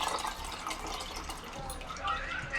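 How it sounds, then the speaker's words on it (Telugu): Water poured into a thick Andhra-style fish curry in a pot, a soft continuous trickle and splash at close range, fairly quiet. "నాకైతే కూర చిక్కంగా ఉంది కాబట్టి నేను నీళ్ళు యాడ్ చేసుకుంటున్నాను"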